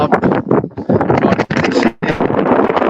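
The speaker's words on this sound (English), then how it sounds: "And that's windy. That almost knocked me off my feet then." Strong gusting wind buffets the microphone on a seafront at Castle Bay, a loud broadband roar that surges and drops for about three seconds, with brief lulls and scraping rustles.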